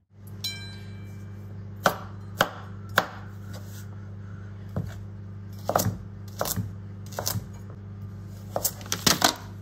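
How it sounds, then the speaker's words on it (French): A knife chopping walnuts and chocolate on a cutting board, with a handful of sharp, separate taps followed by quicker clustered chops, close by over a steady low hum. "je vais déjà faire cuire mon potimarron, hacher mes noix, hacher mon chocolat"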